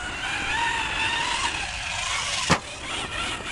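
A Hobao Hyper TT 2.0 RC car running on 2S power on its first run, its motor whining steadily at close range with one sharp brief burst partway through, no talking.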